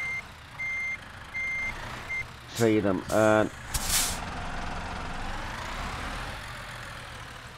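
Truck reversing alarm in a truck driving video game, three evenly spaced electronic beeps followed by loud hissing air-brake bursts and a low idling engine, with a voice speaking briefly over the noise.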